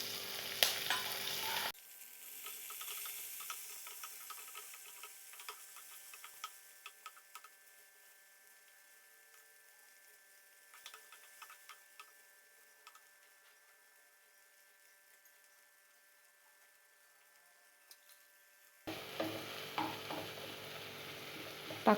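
Tomatoes for rasam sauté in a pan with a soft, steady sizzle and intermittent light stirring clicks, quieter through the middle and louder at the start and end, with no talk.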